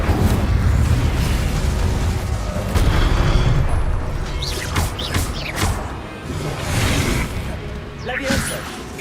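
A fire spell cast in Hogwarts Legacy: a loud, booming magical burst with roaring whooshes and crackling, rising and falling over several seconds amid other game effects.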